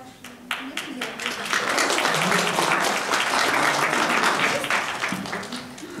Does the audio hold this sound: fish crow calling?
no